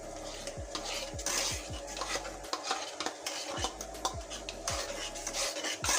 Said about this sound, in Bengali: এখন এটাকে খুব সুন্দর মতন এটাকে কষাতে হবে, কষিয়ে কষিয়ে এটাকে রান্না করতে হবে